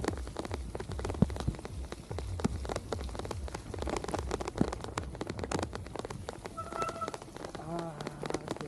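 Steady rain at night while cycling on a bike path, continuous dense patter with scattered sharper drops, heard close throughout, with a faint short tonal chirp near the end.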